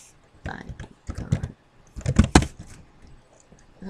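A computer keyboard is typed on in short bursts of quick clicking keystrokes, with brief pauses between the clusters of clacks.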